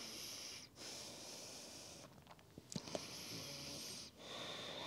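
Slow, deep breaths drawn in and let out during a gentle floor yoga class. The long airy inhales and exhales are audible and close, with a softer pause between them and a few light clicks and rustles in the middle.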